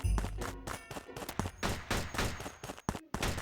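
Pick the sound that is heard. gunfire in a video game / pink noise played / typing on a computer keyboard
gunfire in a video game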